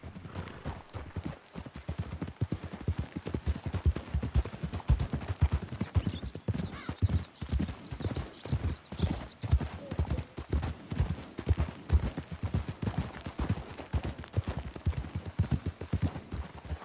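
Horses galloping in Red Dead Redemption 2, rapid rhythmic hoofbeats pounding on for a long stretch, with occasional snorts or whinnies and faint background game ambience.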